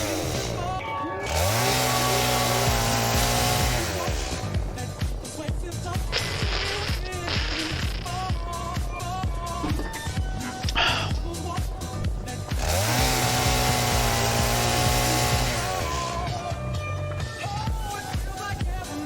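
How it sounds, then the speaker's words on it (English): A handheld chainsaw in the game Satisfactory revs and whines continuously through repeated cuts, loud and up close, with pitch rising and falling as it bites into trees and foliage over a dense game soundscape. "Oh yeah, I was gonna chainsaw some stuff."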